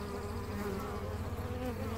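Honeybees buzz steadily around a hive entrance during a July beekeeping visit in Newfoundland, a dense, close, continuous drone of many insects landing and taking off, with no voices.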